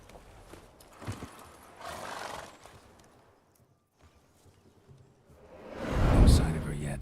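Roach, the horse in The Witcher 3 video game, snorts and whinnies faintly amid soft hoof clops and outdoor ambience, with a louder burst near the end.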